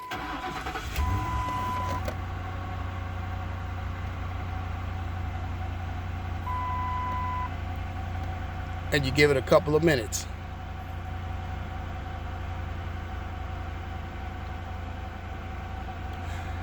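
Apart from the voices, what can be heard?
2003 Lincoln Town Car starting and idling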